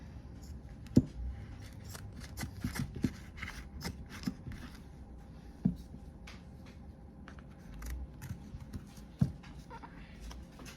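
Poor-quality scissors snip repeatedly at an uneven pace, close and crisp, with light rustling between cuts, while cutting material for harvest crafts.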